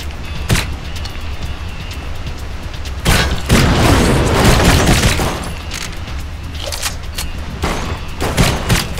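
Gunfire and booming explosions in the video game Blue Estate, dense rapid shots with heavier blasts in the middle, loud and continuous over a noisy background.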